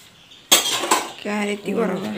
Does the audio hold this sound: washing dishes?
yes